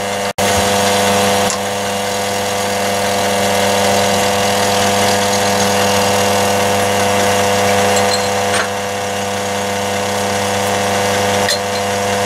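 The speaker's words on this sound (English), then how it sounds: "So now I'm going to use a 13th, 16th tapered shank drill to rough out the bore for the bearing." A 13/16-inch tapered shank drill roughing out a bearing bore on a lathe, a steady loud mechanical hum with a constant motor tone and faint cutting noise, running continuously without talk.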